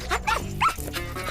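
A dog in the animated series Code Lyoko gives two or three quick, yappy barks in close succession, loud and close with nothing else around them.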